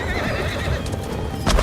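A horse whinnies amid hoofbeats and clattering movement in a samurai video game, ending with a sharp burst of noise; a close, busy scene.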